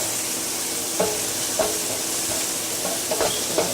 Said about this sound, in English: We're going to add that to the onions. We're going to stir it up.